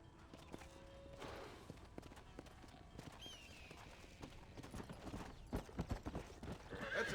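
Horses in the Western video game Red Dead Redemption, hooves clip-clopping in a loose rhythm across a ranch with a whinny rising briefly, faint and distant under ambient outdoor noise.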